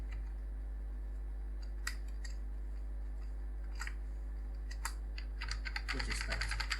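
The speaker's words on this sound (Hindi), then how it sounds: "कीबोर्ड में एक बटन होता है एंटर का, ये इससे आप नेक्स्ट लाइन पर टाइप कर सकते हो।" Computer keyboard keys being typed on, including presses of the Enter key, with scattered single clicks giving way to a quicker, denser burst of keystrokes near the end over a steady low hum.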